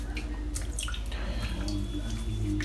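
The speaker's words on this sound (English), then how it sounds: "I'm just filling the bowl back up" Water runs from a tap into a shaving bowl at a bathroom sink during a head shave, making a continuous close splashing and trickling with a low hum underneath.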